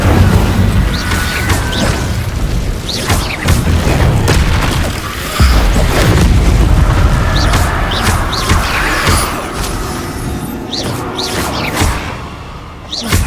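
Fire spell cast repeatedly during combat in the Hogwarts Legacy video game, with loud booming blasts, whooshes and crashes layered over constant game effects and music.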